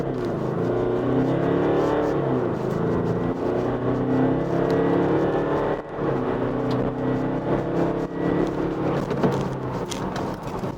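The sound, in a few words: Jaguar F-Pace SUV accelerating to 100 km/h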